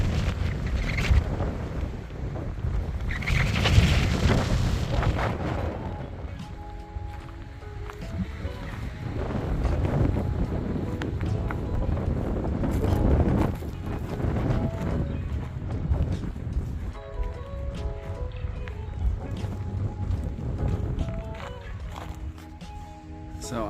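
Strong gusts buffet the microphone on an exposed Sierra Nevada mountain trail near Mt. Houghton and Relay Peak, a broad roaring rumble rising and falling throughout with a voice speaking over it.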